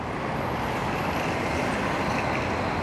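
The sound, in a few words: rush hour city traffic near a park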